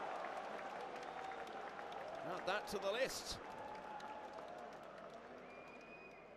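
Crowd applauding at the 2023 Hanoi Open Pool Championship semi-final, a moderate burst of clapping and cheers rising then fading, heard under a commentator's voice.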